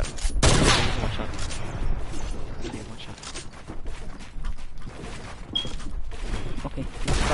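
Rapid gunfire bursts in a competitive duos shooter video game match, dense and continuous with a sharp shot near the start, mixed under faint game ambience.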